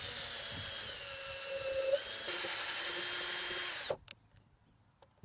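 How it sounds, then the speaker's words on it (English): A power drill whines at high speed, pitch dipping as it bites into pallet wood for a few seconds, then cuts off abruptly, leaving near silence with small clicks. "let's go ahead and start drilling 3 holes so then we can put our screws in"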